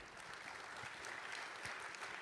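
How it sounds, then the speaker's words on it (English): Steady applause fills the whole stretch as an audience claps for panel speakers at an open source software conference, dense and even with no voices over it. "give a big round of applause to our audience, to our speakers"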